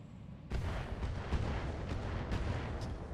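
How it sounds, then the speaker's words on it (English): Mortar fire in the BattleTech video game: a sudden heavy boom starts a sustained rumbling barrage, with several further thuds rolling through a dense, low roar. "Decent mortars."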